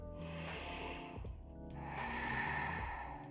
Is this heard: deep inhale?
yes